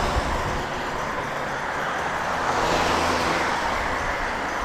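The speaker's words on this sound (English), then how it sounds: "And as you can see, cars have quite a bit of room to go around me." Cars pass a cyclist on the road as a steady, broad roar of traffic and tyre noise, close and continuous for several seconds, with no talking.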